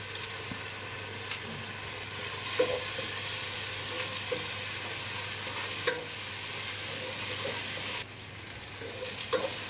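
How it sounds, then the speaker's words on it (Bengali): Ginger-garlic paste frying in a pan for a roast dish, a steady close sizzle broken by occasional scrapes and clinks of stirring. "এখন আমি আদা রসুন দিয়ে দিচ্ছি।"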